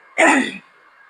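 A single short, harsh cough-like burst, close and fairly loud, lasting under half a second before fading to quiet room tone.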